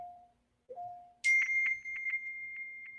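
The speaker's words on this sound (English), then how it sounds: "I'm getting all sorts of notifications here." Phone notification chime, a bright ding with a ringing tail, followed by a short run of quieter repeated tones, after a brief lower tone at the start; no talk.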